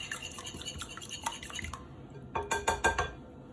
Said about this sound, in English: now I finished whisking the eggs and milk